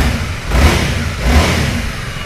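A Honda Rebel 300 motorcycle from 2019 with an aftermarket exhaust revs hard twice, loud and close, its deep engine note swelling and settling back between the blips.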